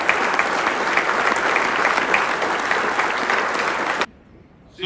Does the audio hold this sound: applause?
yes